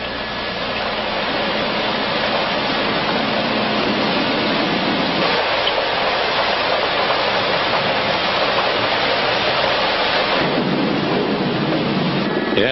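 Heavy tropical rain over Kuala Lumpur pours down in a dense, continuous roar with deep low rumbling underneath, steady and loud throughout with no voices.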